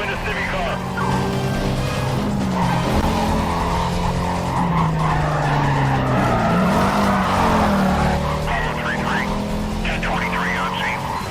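Car tires squeal and skid continuously while fishtailing in Need for Speed Carbon, with a racing engine roaring loudly throughout and a person talking over the game sounds.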